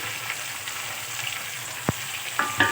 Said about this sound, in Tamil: லைட்டாக ஒரு வதக்கிக்கலாம். இப்போ அது கூடவே கேரட் போட்டுக்கலாம்.